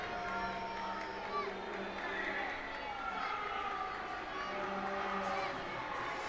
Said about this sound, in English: I'll let the crowd tell you how they feel.